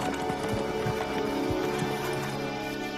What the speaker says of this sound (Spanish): Un caballo se aproxima raudamente por los llanos